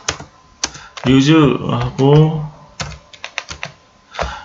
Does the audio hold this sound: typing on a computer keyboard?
yes